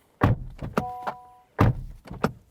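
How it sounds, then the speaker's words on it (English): Two heavy, muffled thuds of a 2023 Honda Civic Type R door slamming shut, close by, with short pauses and softer knocks in between. "Door slam."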